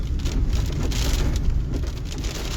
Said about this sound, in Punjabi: ਬਾਰਿਸ਼ ਜਿਹੜੀ ਆ ਉਹ ਚੱਲ ਰਹੀ ਹੈ